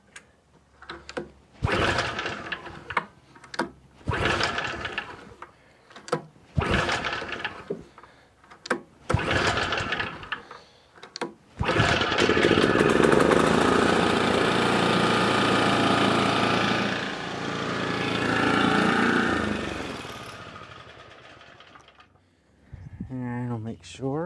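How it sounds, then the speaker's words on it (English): An Exmark Commercial 30 lawn mower engine starts after an oil change and runs at a steady, loud, close drone for about ten seconds, following a stretch of intermittent talking. "we are going to now run the motor for a bit, let it circulate"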